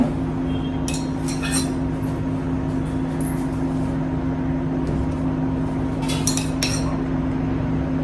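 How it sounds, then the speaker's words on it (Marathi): A spoon clinks against a pot while ghee is added to valachi khichdi, a few sharp metallic taps over a steady low hum of background noise. "आता ह्याच्यावर आपण एक चमचा साजूक तूप घालूया"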